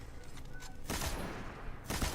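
Bursts of machine gun fire in a Destiny raid, two rapid rattling volleys separated by a short pause, moderately loud over a low game background.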